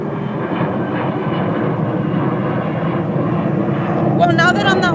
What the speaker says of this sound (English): Sorry about the airplanes.